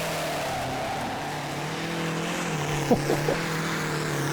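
A loud, steady drone from a VW Passat 1.9 TDI diesel engine in a pulling tractor at a 2008 Danish tractor pulling championship, strained and labouring, revving slightly higher midway, with a few brief sharp squeaks near the end.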